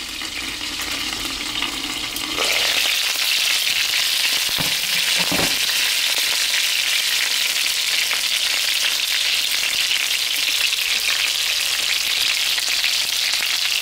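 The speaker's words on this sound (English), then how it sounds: "I'm already cooking the wings." Chicken wings fry in a pan with a loud, steady, close hiss that surges stronger after a couple of seconds, broken by a brief scrape or two, and no voices.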